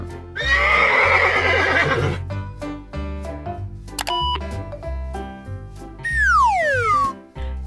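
A horse gives a loud, rasping neigh lasting over a second near the start, set against cheerful background music with chimes and a descending whistle effect later.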